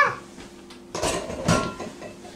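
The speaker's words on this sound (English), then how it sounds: "Keep on stirring." A spoon stirs pancake batter for pigs in a blanket in a bowl, giving a few soft scraping clinks and knocks against the bowl, quiet and close.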